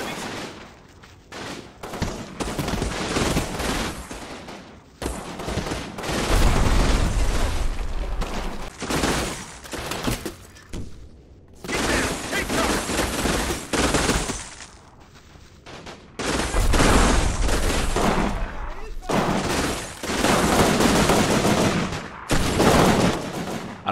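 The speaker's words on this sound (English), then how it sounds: "Under suppressing fire from their machine guns, the enemy troops again attempt to gain foothold on the objective, but are repulsed." Machine gun fire in the Normandy battle game Combat Mission Battle for Normandy: loud sustained bursts of automatic gunfire come in several long stretches, separated by short quiet gaps.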